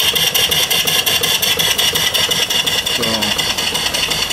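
A live steam engine with 2.5-inch bore and 3-inch stroke, fed by a 90-pound boiler and built for forward and reverse running, chugs loudly and steadily throughout under brief speech.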